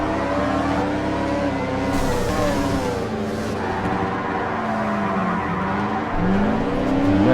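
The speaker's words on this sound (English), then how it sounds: "No grip on the track, everybody's sliding the rear end." Race cars in TOCA Race Driver 2 sliding and skidding on a slippery, low-grip track, engine notes wailing continuously with long rising and falling tire squeals layered over steady loud engine roar.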